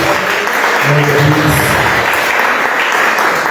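A church congregation claps together in a steady, dense burst of loud, close applause during a worship service, with a faint voice briefly beneath it.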